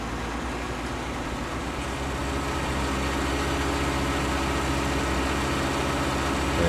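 A T8 tractor in Farming Simulator 19 pushes piled snow toward a hedgerow in winter, its heavy diesel engine giving a steady low rumble that swells slightly louder toward the end.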